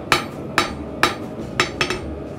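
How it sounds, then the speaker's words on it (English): Blacksmith's hammer striking an anvil in a forge, five ringing metallic blows in a loose rhythm, the last two quicker, each leaving a short ring over a quiet room hum. "I like the rhythms I make when I'm hammering on the anvil."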